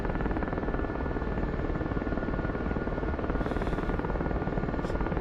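A helicopter in DCS World drones with a loud, steady rotor chop and a constant engine whine that fills the whole stretch without letup.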